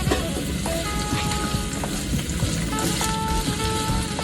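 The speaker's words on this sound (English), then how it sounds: "we're gonna get these nice and simmered and sauteed" Onions sauteing in a pan for chicken fajita tacos, a steady dense sizzle and crackle with small pops, loud and close throughout, a few faint higher tones sounding over it.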